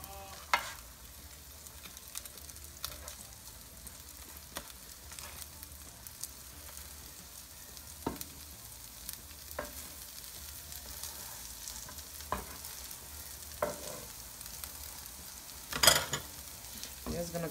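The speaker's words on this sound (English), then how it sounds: "Just gonna keep flipping until it is cooked." Fish cakes frying in a pan give a low, steady sizzle, broken every few seconds by soft taps and scrapes as they are flipped, with one sharper clatter near the end.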